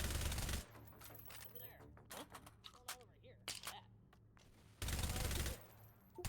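A Spas shotgun fires in an H3VR match with a loud, harsh blast, then a quieter stretch of scattered clicks and clatter with talk, then a second heavy burst near the end.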